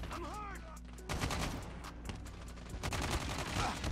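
BK57 assault rifle from Call of Duty Mobile, fired in rapid full-auto bursts, loud and dense, with brief pauses between strings of shots and a voice talking over part of it.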